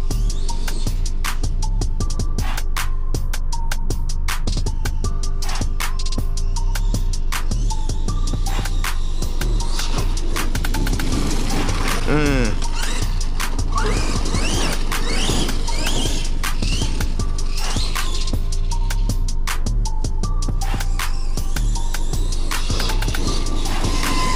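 A Losi DBXL-E 2.0 electric RC buggy with a Max 5 G2 800 kV brushless system runs at partial throttle, its motor whine and drivetrain hum throbbing continuously with rattles and creaks for about 24 seconds, with no talk.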